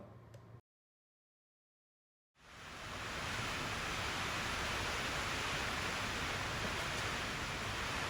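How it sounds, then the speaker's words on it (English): After a short cut to silence, a strong outdoor wind roars in, a dense steady rush of air that stays loud and unbroken. "Sorry for the noise, it's super windy outside."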